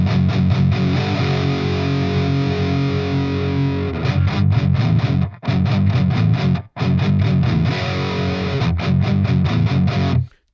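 Electric guitar played through the lead channel of a Grandmeister Deluxe 40 amp, set for a high-gain metal tone: loud, saturated palm-muted chugs and sustained chords with a few abrupt stops, close and without talk.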